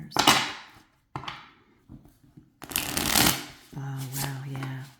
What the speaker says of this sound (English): That's a nice shuffle.